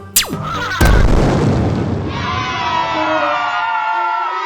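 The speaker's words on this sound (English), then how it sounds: "They throw their magic into the sky. Boom! A beautiful blast." A cartoon magic firework blasts in the sky: a sharp pop, then a big booming burst, followed by a long bright crackling, sparkling shimmer with faint crowd-like cheering beneath.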